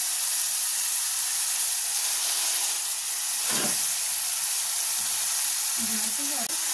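Chopped onions with a pinch of salt sizzle in a covered pan on low heat, a steady soft hiss with a few brief clinks and stirring sounds near the end.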